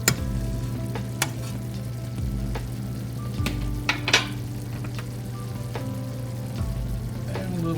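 Butter sizzles and fries in a pan over medium-low heat while shrimp scampi cooks, a steady crackling hiss with occasional clinks of a utensil stirring against the pan.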